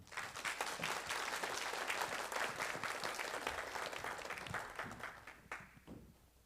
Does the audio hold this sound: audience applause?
yes